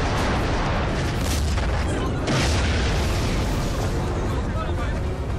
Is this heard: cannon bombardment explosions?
yes